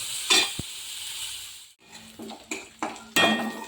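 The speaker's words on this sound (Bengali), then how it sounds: "নেড়ে দেবো" Onions and green chillies for ghugni are stirred in a pan, heard as a few separate scraping and clinking strokes of a utensil against the metal between brief pauses, close by, over a low sizzle.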